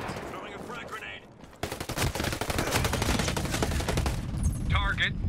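Video game gunfire in Ghost Recon Breakpoint: a couple of sharp isolated shots, then a sustained rapid automatic burst rattling on for several seconds, loud and close, with a voice faintly mixed in.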